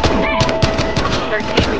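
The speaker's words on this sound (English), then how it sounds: "Shots fired." Rapid gunfire in the video game Battlefield Hardline, a loud close burst of repeated shots and thumps packed into under two seconds.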